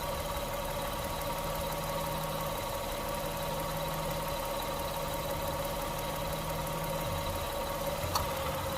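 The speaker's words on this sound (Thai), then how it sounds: "ฟังเสียงเครื่องเลยนะครับ" A Lexus RX300's 3.0-litre V6 engine (1MZ) idles steadily and smoothly, a constant low hum with a faint mechanical whine, recorded up close with no talking.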